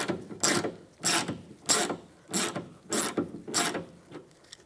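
Six evenly spaced ratcheting strokes as a 10mm socket loosens a window regulator nut inside a 2002–2008 Dodge Ram 1500 door, each a short clicking burst, close up.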